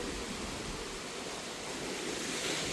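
Wind blows over a lake at a lakeshore near Rangamati, where waves lap the shore in a steady, full wash of noise, loud and continuous with no voices.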